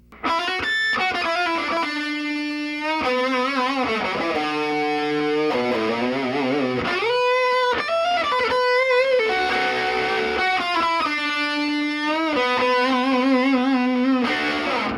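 A distorted Gibson Les Paul electric guitar plays a bluesy rock lick, with bent notes and quick runs, loud and continuous, no talking.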